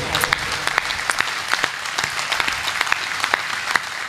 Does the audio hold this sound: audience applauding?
yes